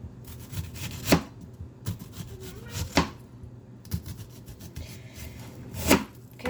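A knife cuts an onion into big circles on a board: several separate chopping thuds and scrapes at a moderate pace, near and fairly quiet, with no talking.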